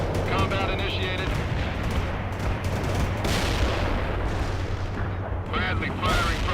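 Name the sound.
Bradley APC firing in World in Conflict video game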